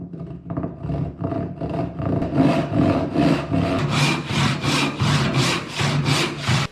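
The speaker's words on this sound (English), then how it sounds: "and start sawing it off." A hand saw cuts through a clamped wooden board in steady back-and-forth strokes, close and loud, the rasping rhythm quickening and brightening as the cut gets going.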